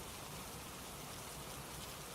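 Rain falls on a stormy night as a steady, even hiss that stays constant throughout, fairly faint and diffuse, with no voices or other distinct sounds.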